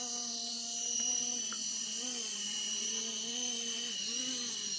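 An RC Era C189 helicopter hovers close by, its steady high-pitched motor and rotor whine filling the air with slight pitch wavering as the throttle shifts, continuous with no talk.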